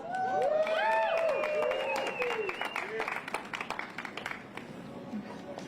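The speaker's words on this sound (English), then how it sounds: "A round of applause." Applause of many hands clapping at a protest in front of Jacksonville City Hall, with steady patter that gradually thins out while a voice and some tonal sounds ring over it early on.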